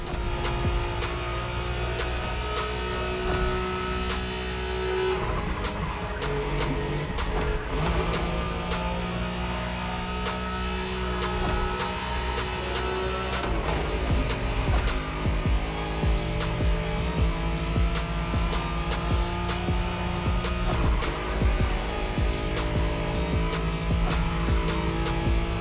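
Nissan Skyline racing in The Crew Motorfest during a midnight race, its engine droning loud and steady throughout alongside other cars, with tire squeal and rising revs over a dense, continuous racing mix.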